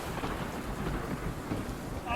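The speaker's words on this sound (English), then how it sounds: "we're just dealing with these sheets of rain and winds that are howling 50, 60 miles per hour" Heavy sheets of rain and howling wind of 50 to 60 miles per hour lash down during a tornado storm in Pilger, Nebraska, a dense, loud, continuous roar close by.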